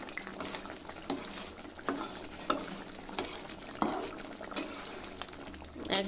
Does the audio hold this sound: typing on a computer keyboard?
no